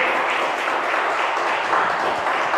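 A church congregation applauds steadily with dense, even clapping that fills the whole short stretch.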